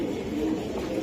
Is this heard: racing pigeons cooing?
yes